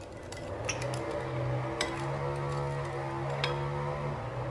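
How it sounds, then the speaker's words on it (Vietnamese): A spoon stirs fish sauce and sugar together in a bowl for fried eggplant, giving soft scraping and clinks against the dish, steady and close. "Mình khuấy lên đều lên ha."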